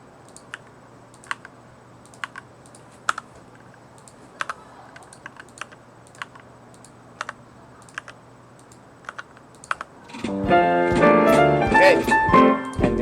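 A computer mouse clicks sudoku squares with sparse, crisp single clicks spaced every second or so over quiet room tone, before a loud, busy burst of tonal sound takes over at the end.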